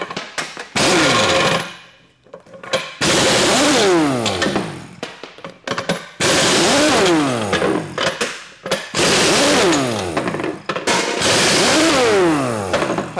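A Chicago Pneumatic CP 7778 1-inch air impact wrench removes very tight nuts in four loud, close bursts of rapid hammering, each lasting a couple of seconds with brief pauses between.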